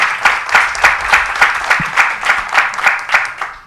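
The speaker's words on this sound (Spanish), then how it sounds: "También un aplauso." An audience applauds at an education talk, giving steady, fairly close clapping with a pulsing rhythm throughout, with no voices over it.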